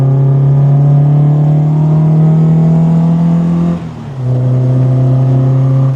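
An MGB sports car accelerates hard on the Castle Combe race track, its engine droning loud and steady in a rising pitch, briefly dipping at a gear change before pulling on again.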